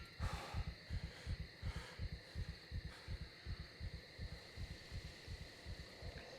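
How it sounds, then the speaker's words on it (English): A player character's heartbeat in the survival game SCUM thumps steadily and quickly, soft regular low pulses over a faint ambient forest hum. "that's just our heartbeat"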